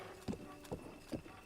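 Giant horse in Zelda: Breath of the Wild walking, with three evenly spaced hoof clip-clops over a quiet background, fairly faint.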